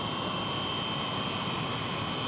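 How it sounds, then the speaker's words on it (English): Airplane engine in a film, a steady loud roar with a droning whine that holds even throughout, no voices. "Yep, it's a plane, all right."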